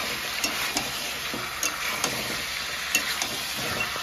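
Thick-cut tomato chunks stirred into chicken frying in whole spices, giving a steady sizzle punctuated by a few soft spatula knocks at irregular intervals, close and without talk.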